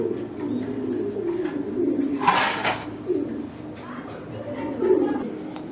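Pigeons coo repeatedly at a crowded pigeon market in Mouchak, Gazipur, near Dhaka, their low throaty calls rising and falling among racer and beauty birds, with background chatter and market bustle.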